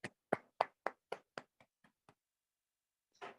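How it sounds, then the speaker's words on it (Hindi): About ten separate claps ring out at an evenly spaced beat at a book launch welcoming a guest, each quieter than the last until they fade out, and a voice follows after a pause. "तो सबसे पहले तालियों से आइए का स्वागत करते हैं।"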